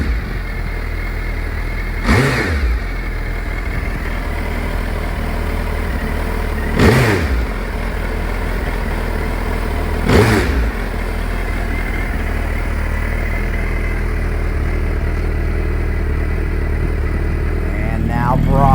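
Motorcycle with stock exhaust pipes heard from the rear while riding; a steady low engine drone mostly buried under loud, continuous wind rush, with a few brief whooshing swells.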